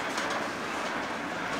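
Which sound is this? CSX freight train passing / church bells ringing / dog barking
CSX freight train passing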